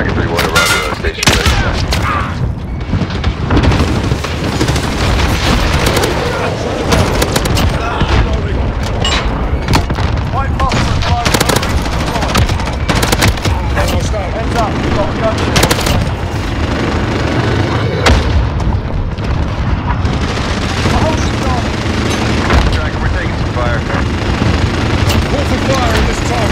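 Continuous barrage of booming artillery strikes and rattling gunfire in the Call of Duty Modern Warfare 2019 video game on PS5, dense and loud throughout with overlapping blasts and bursts, and faint voices mixed in.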